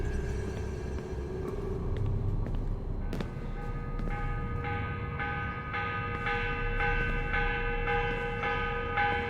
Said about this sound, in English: Morning bell. God, I hated that. Ringing 5 days a week just before dawn.